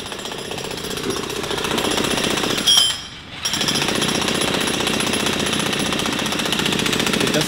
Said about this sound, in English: there is always a jackhammer in New York